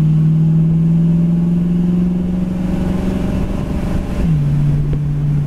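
1966 Ford Mustang convertible engine humming steadily under kickdown acceleration, with a sustained loud drone whose pitch dips as the transmission shifts near the end; no voices.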